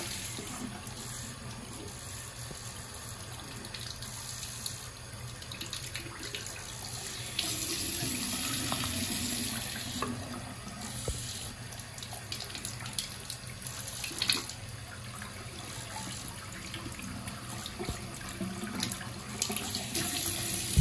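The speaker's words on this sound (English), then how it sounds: "So let me give you all a flush just so y'all can kind of see" A miniature 4-inch Springfield Ingenium toilet flushes with a steady, close rush of running water that swells partway through and continues for about twenty seconds, without speech.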